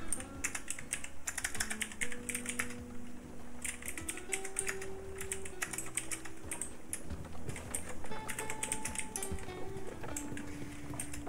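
Quick, irregular key clicks from typing on a computer keyboard, in close bursts over a soft background of game music and tones.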